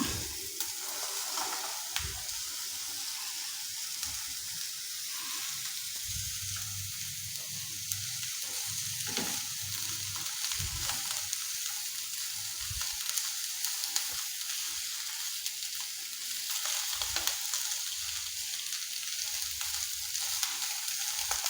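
Okra (lady's finger) frying with softened onion in a pan for a stir-fry, a steady soft sizzle throughout with occasional scraping and stirring knocks.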